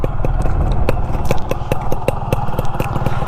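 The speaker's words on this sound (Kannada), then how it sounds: "ಇಂಜಿನ್ ಸೌಂಡು ಅಷ್ಟೇ ಏನು ಸ್ಮೂತ್ ಆಗಿದೆ" A restored motorcycle engine idles steadily and close by, its even low thumping pulse running throughout with light mechanical clatter on top.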